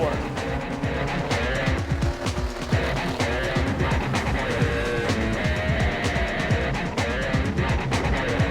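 Sprint cars roar around a dirt oval during a heat race, a dense, loud mix of engine snarl and passing cars rising and falling throughout, with a commentator talking over the racing.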